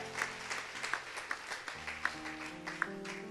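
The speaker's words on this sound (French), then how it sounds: "j'apprécie ceux qui acclament le Seigneur" A church congregation applauds and cheers in acclaim of the Lord at a French-language service, with rhythmic clapping peaks and a murmur of voices and music underneath, moderately distant.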